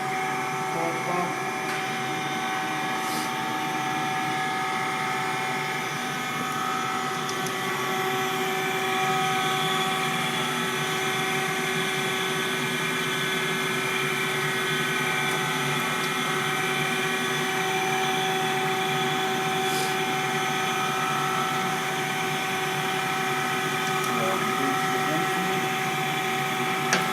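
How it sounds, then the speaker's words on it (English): Coolant pump on a Schaudt 14 x 46 inch cylindrical grinder, a steady hum layered with constant tonal whine from the running machine, holding even at one level throughout with no breaks and a few faint clicks. "Coolant pump."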